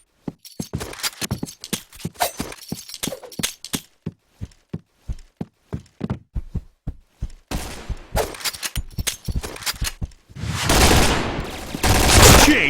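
Rapid gunfire from the video game Point Blank: a fast series of sharp, evenly spaced shots that thins into scattered bursts, then ends in a denser, louder barrage.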